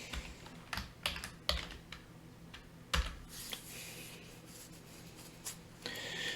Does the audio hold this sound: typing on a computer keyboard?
yes